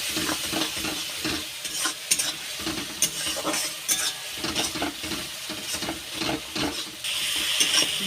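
Cumin, turmeric and chili powder stir-fried in mustard oil for a rohu fish curry, a steady close sizzle with repeated spatula scrapes and stirs against the pan, busy and continuous throughout.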